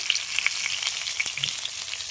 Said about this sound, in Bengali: আর কিছু মাছ কড়াইয়ের মধ্যে ভাজা হচ্ছে।